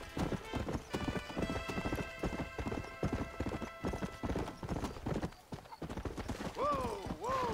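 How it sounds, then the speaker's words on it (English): Horse hooves in the Red Dead Redemption video game clip-clop in a fast, steady galloping rhythm, close and prominent throughout. A horse whinnies near the end. "Come on, horse."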